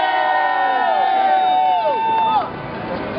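A crowd at a community press conference in Overtown cheers and whoops for a speaker, with rising and falling voices over a loud crowd roar that drops away sharply near the end.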